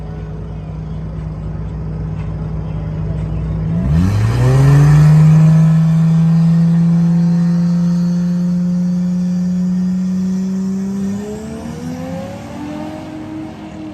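A loud car engine revs up and roars away down a drag strip, racing a Camaro SS, the pitch climbing steadily as it accelerates, then fading somewhat near the end.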